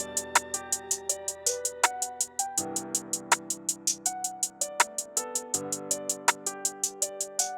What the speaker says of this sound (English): The next thing I added were these hi-hats right here